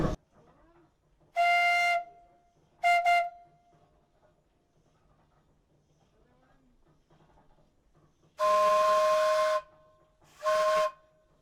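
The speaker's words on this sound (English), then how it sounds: "It carries a variety of whistles on it" A steam donkey engine's whistle, fed by a wood-fired boiler, sounds four times, two long and two short blasts in a pattern, each a loud hissing tonal shriek separated by quiet pauses.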